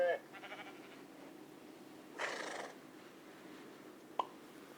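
A single sheep bleats faintly at the start, followed by a quiet wavering call and a brief click, with soft background hiss between.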